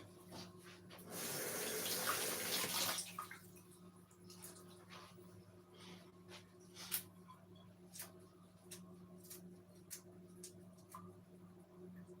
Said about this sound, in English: So I'm gonna give that a quick wash.